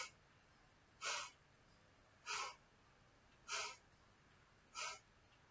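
Four short, forceful kapalbhati exhalations through the nose, evenly spaced about a second apart, each a sharp breathy puff close to the mic in an otherwise quiet room.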